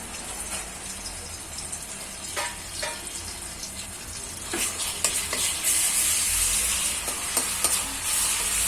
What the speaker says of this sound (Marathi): आलं लसूण चांगली परतली.